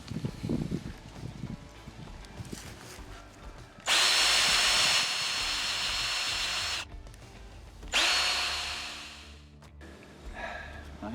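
A power drill whines loudly in two long bursts, boring into hard dried cedar, with quieter shop noise before, between and after.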